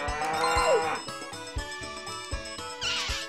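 Cows in the farming video game Harvest Moon 64 moo close up, a drawn-out low bellow followed by short rhythmic game tones and a second moo near the end.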